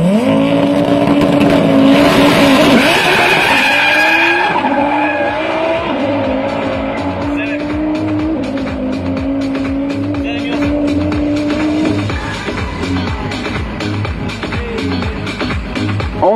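An Audi TT RS race car launches hard at a drag strip in Sliven, its engine roaring loud and close with tire squeal as it pulls away, the note fading over the run.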